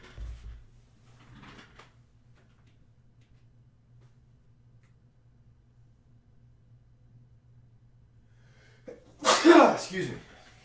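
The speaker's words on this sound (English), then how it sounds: "Guys, I think I'm going to sneeze here momentarily." A single close sneeze bursts out near the end, loud and abrupt after a mostly quiet stretch with a faint low hum and brief soft rustles.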